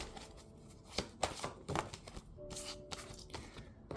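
Tarot cards shuffled and pulled, with soft riffling and sharp taps and flicks of the deck at close range, fairly quiet and spaced irregularly.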